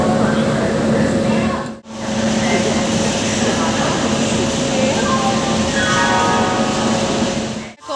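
A local commuter train rolls into a station with a steady, loud roar and rumble that fills the whole stretch, broken by a couple of brief dips, with no clear voices on top.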